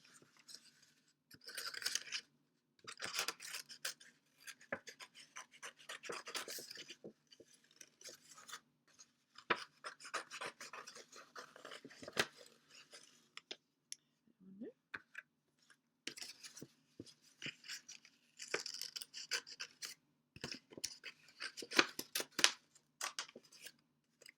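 Scissors snipping out paper sea turtle head and flippers, close, with repeated bursts of quick crisp cuts separated by short pauses, no speech.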